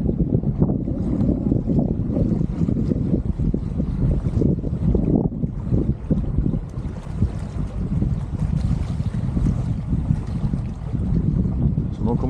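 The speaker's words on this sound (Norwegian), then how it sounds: "Og nå blåser det ganske kraftig." Strong northeasterly wind blowing at the coast, a steady roaring rumble that buffets the microphone continuously with no pauses.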